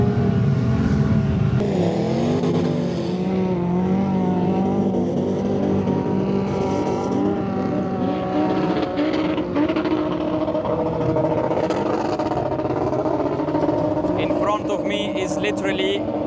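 Off-road vehicles race up steep desert sand dunes at Liwa in the UAE, engines droning and revving steadily throughout under nearly constant talk and background voices.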